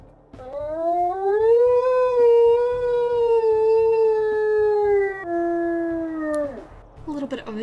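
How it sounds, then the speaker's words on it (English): A long, wavering wolf howl from a video game rises and holds steady for several seconds, then drops to a lower sustained tone before breaking off. It is loud and clear over a faint low background. "we'll listen to her howl. She got the classic nostalgia howl from the original game"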